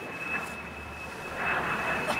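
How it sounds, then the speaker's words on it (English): A low, steady engine drone rumbles continuously, swelling slightly louder toward the end, like an aircraft passing in the distance. "A plane? In this weather?"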